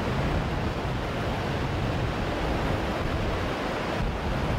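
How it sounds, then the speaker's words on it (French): The Zambezi River churns at the foot of Victoria Falls in the low-water season, a continuous broad roar of rushing, frothing water, loud and unbroken, with some wind buffeting and no voices. "quand les eaux du Zambèze se rassemblent en bouillonnant au pied des cascades"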